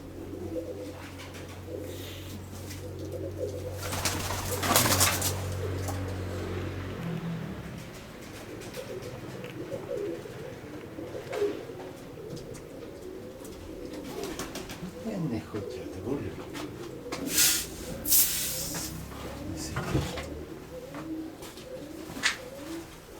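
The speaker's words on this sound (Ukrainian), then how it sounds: "А так, це вже мої одні голуби всі." Pigeons coo repeatedly, soft low calls overlapping near and farther off, with occasional wing flaps and a voice talking briefly.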